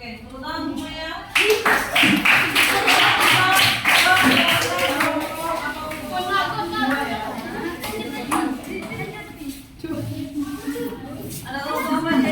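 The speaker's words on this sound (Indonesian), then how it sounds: "tepuk tangan semuanya" A class of schoolchildren claps along in a classroom, bursts of hand claps mixed with busy chatter and voices throughout.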